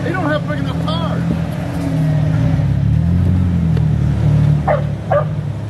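A Jeep engine revs and drones steadily while climbing a rocky trail in Uwharrie National Park, loud and close, with a voice talking over it and brief dog-like barks partway through.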